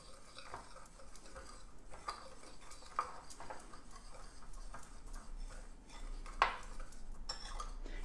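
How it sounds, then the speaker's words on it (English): A whisk clinks and taps against a bowl while sauce ingredients are mixed together, with quiet irregular metallic ticks at close range. "we're just gonna grab a whisk and mix it all together"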